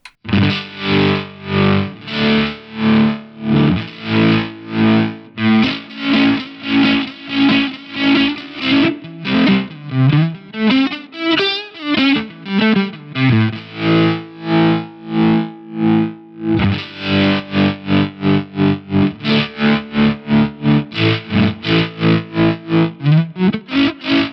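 Distorted electric guitar chords pulse rhythmically through a modulating drive pedal, the Poly Effects Josh Smith Flat V, the tone swelling and sweeping for a long stretch, loud and continuous.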